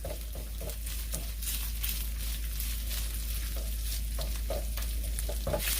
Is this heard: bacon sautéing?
yes